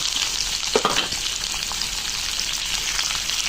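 Tempering spices sizzle and crackle in hot oil in a kadai, a steady close frying hiss with a few sharper pops and spatters, no talking.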